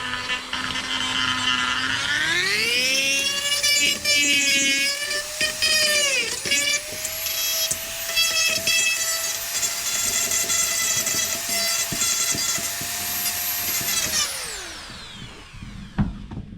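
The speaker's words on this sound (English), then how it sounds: "Now I'm going to start sanding this down." A high-pitched rotary tool with a sanding bit spins up, whines steadily while grinding against an RC motor mount with slight pitch dips, then winds down near the end.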